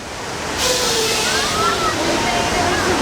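Flooding water effect on a studio tram ride surges in after a brief lull, a loud rushing, sloshing torrent that keeps pouring steadily, with voices talking faintly underneath.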